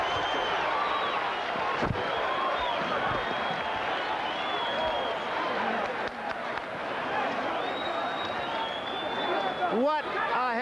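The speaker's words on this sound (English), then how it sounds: "Listen to the crowd." A boxing arena crowd roars loudly and continuously after a heavyweight championship fight between Larry Holmes and Michael Spinks in 1985, with cheering, chatter and a few sharp bangs in the din.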